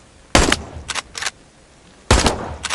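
Hunting rifle shots in a hunting video game: two sharp, loud cracks about two seconds apart, each followed by short echoing reports, close and clear with no voices.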